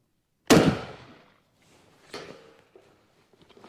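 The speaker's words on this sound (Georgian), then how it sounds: "დაახლოებით ერთი 50 მეტრში და ვესვრი" A single sharp gunshot rings out outdoors during a hunt, loud and close with a trailing echo, followed about a second and a half later by a fainter, shorter report and some quiet rustling.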